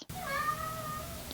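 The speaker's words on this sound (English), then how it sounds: "I don't know if you heard the cat meowing, but there was a cat meowing." A cat gives a single drawn-out meow that rises and then trails off, quiet and somewhat distant in an otherwise still room.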